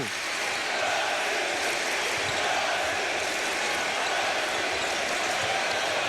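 A large arena crowd at a Brazil versus USA FIBA World Cup 2010 basketball game roars continuously, a dense wall of cheering and chanting that stays loud throughout.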